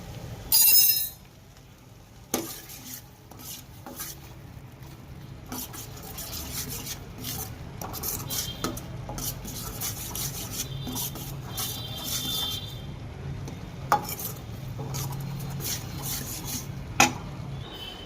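A spoon scrapes and stirs around a pan of ragda tempering with asafoetida and red chili, giving soft rubbing strokes with occasional sharp clinks against the metal, fairly quiet and with no talking.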